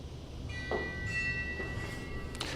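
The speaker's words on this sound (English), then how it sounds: "A note on the chimes." One note struck on hanging chimes in a ceiling installation, triggered by a radiodrum, rings thinly and sustains for about a second over a noisy room background.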